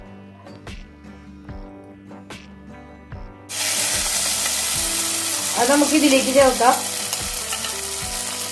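Fenugreek, dried red chillies and curry leaves hit hot mustard-seed tempering for banana pulissery, and a loud sizzle bursts in after a quiet start with faint ticking. A voice speaks briefly over the spitting oil.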